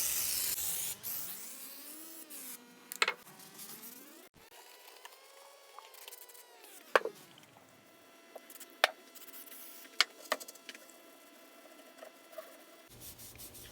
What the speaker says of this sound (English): And get a little WD-40 on there.